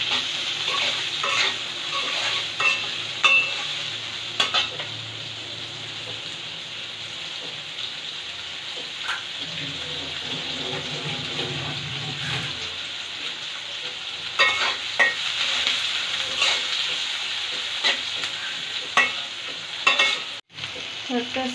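Green chillies fry in oil for a fish curry, a continuous close sizzle with repeated stirring scrapes and occasional utensil knocks, steady throughout with no speech.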